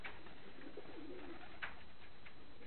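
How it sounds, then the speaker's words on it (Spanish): A domestic pigeon coos softly in a loft, low murmuring calls over steady background hiss, faint and somewhat distant. "Está loca esta paloma."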